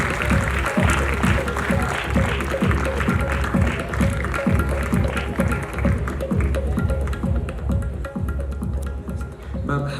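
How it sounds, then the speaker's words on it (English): College festival audience clapping in a hall, loud continuous applause with a brisk rhythmic edge that holds steady throughout. "Please give a huge round of applause."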